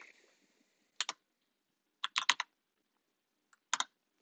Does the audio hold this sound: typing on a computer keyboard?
yes